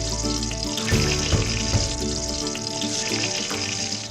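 Brinjal slices frying in hot oil in a home kitchen give a loud, steady crackling sizzle, with a few sharper pops and stirring clatters over the first two seconds.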